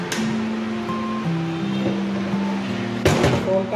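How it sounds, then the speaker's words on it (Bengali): An Oppo A5x phone thrown into water lands with a sudden sharp splash, following a stretch of steady background hum and faint tonal noise, with a short burst of sloshing after the impact. "আমি অন অবস্থায় ফোনটা পানিতে ছুঁড়াই"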